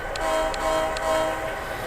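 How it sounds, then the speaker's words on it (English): Three short, evenly spaced toots of a model train horn, a short whistle signal, sound over a steady mechanical hum. "we're going to do our short whistle signals"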